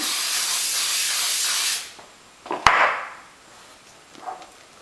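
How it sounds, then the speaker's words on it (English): A short burst of cooking spray hisses close up onto a waffle pan after a longer steady hiss, followed by a faint soft sizzle. "I'm going to spray this pan just a little bit better."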